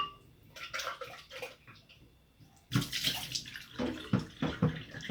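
Running tap water splashes and gurgles over an Oster 14-speed blender jar as it is rinsed, soft at first and then louder and more uneven as the jar moves under the stream.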